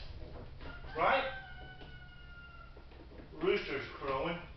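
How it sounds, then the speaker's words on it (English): A rooster crows once, moderately distant, followed by a second crow-like call a few seconds later, with faint background noise and some talking. "Rooster's crowing."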